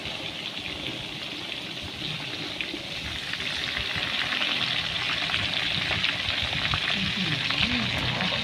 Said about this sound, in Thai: ทอดด้วยไฟเบาๆทอดด้วยไฟเบา ๆ